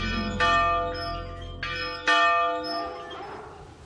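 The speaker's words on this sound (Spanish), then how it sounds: "Entonces esta campana ha salvado muchas vidas" A village bell in Somiedo natural park tolls several strong strokes, each ringing out with a long bright shimmer that overlaps the next, then fades into a hushed outdoor ambience, with no voices.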